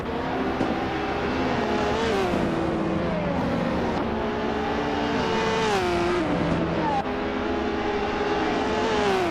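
Ultralight-class race cars, led by a 2011 Bay Kimono, launch at the start of a video game race at Bannockbrae, with high revving engines whining up and shifting repeatedly, loud and continuous.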